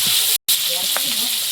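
Chopped onion frying in a pan, a steady close sizzle and hiss with a brief cut partway through and a faint stirring clink.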